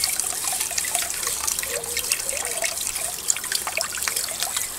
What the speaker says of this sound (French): Tu rinces bien comme ceci.